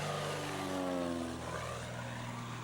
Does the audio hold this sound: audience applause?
no